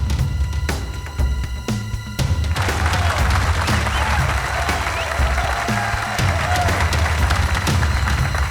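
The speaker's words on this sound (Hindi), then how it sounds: "तालियां" Crowd applause swells in after a couple of seconds of quieter background sound with a few sharp knocks, then continues as a dense, steady clatter of many hands, with faint cheering mixed in.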